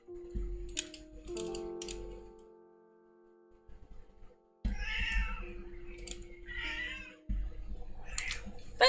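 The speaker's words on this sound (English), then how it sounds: "My cat is bothering me again." A pet cat named Susie meows repeatedly at close range, with harmonic calls breaking out in separate bursts. Keyboard tapping and desk noises run between the calls during a live art stream.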